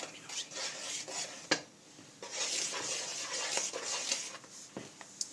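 A spoon stirs cinnamon into flour in a bowl, giving soft, steady scraping and rubbing with a few sharper clinks against the dish, fairly quiet and close with no talking.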